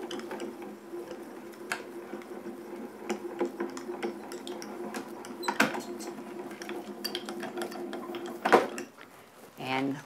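A craft die-cutting machine is hand-cranked as it rolls plates, card and an embossing folder through, giving a steady low grinding rumble with scattered clicks and knocks, while someone talks over it.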